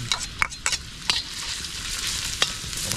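Steady sizzling of food frying in hot oil, with a few sharp clinks and scrapes from stirring on top, close and fairly loud.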